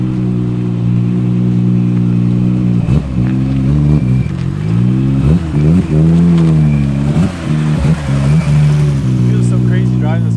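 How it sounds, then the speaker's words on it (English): A Nissan R34 GTR engine drones loudly while driving, rising and falling through a string of revs and gear changes close up, with voices talking over it at times. "It feels so crazy driving this car again."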